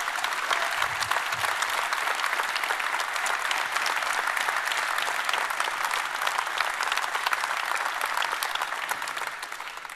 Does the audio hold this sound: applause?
yes